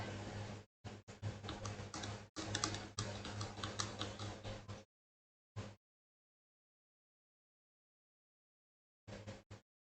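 Typing on a computer keyboard, bursts of rapid close clicking keystrokes separated by pauses and a final short burst, with no voices.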